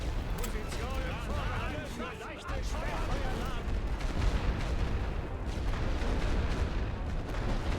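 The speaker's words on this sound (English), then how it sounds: "Here I'm dropping artillery on them and they're not suppressed." Artillery bombardment in The Great War: Western Front, a dense continuous rumble of booms and blasts with no breaks, under someone talking steadily over it.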